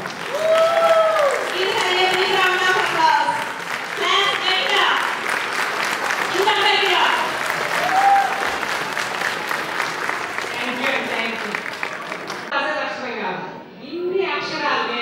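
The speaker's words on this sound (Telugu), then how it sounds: "అందరం కలిసి జ్యోతి గారిని స్టేజ్ మీదకు చప్పట్లతో ఆహ్వానిద్దాం." Audience applause fills a school annual day hall as a woman is welcomed onto the stage, steady and loud, with children's voices and announcer speech layered over the clapping before it thins out near the end.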